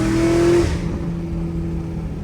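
Chevrolet Camaro ZL1 engine revving from inside the car, a loud brief roar that peaks then drops into a deep steady idle rumble, no voices.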